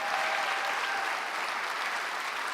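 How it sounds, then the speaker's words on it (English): Sustained applause from a large crowd at an anniversary event in London, an even, dense roar of clapping that holds steady throughout at moderate loudness, with no one speaking. "Let's give them a round of applause, everyone."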